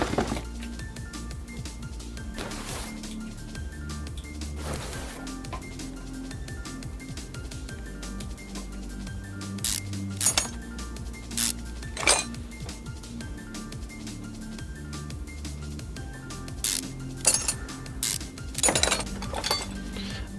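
Metal parts clink and clatter in sharp separate hits while an oil pan is removed to reach the crankshaft bearings in Car Mechanic Simulator 2021, the bright clinks scattered irregularly over a low background hum.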